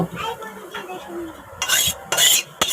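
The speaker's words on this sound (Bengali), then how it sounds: "এবার আমি ঢেলে নেব গামলার মধ্যে কড়াই থেকে" Food being poured from a wok into a bowl, with a few scraping and clinking bursts of utensil against metal and crockery over low kitchen background noise, close by.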